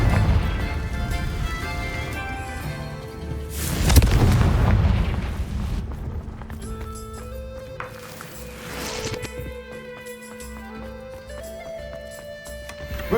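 Confringo fire spell blasts in the Hogwarts Legacy video game: a loud boom bursts around four seconds amid a busy bed of game music and effects, followed by a sustained rumbling tail and clinking, tonal magic sounds.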